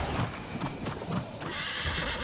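A horse in the game New World gives a sharp whinny over a quick clip-clop of hooves, close and loud, with no talk over it.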